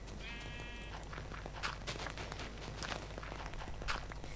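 A Minecraft sheep bleats briefly near the start amid steady footsteps on a crunchy surface, with a low constant background hum.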